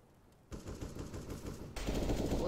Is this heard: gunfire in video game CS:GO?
yes